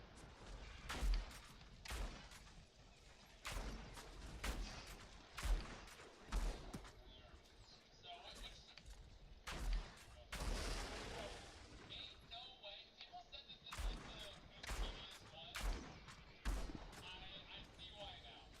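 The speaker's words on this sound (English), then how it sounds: "This assault rifle," Assault rifle fire in the Outriders video game: repeated loud bursts and sharp blasts in irregular clusters, some booming like explosions, with a voice talking between the shots.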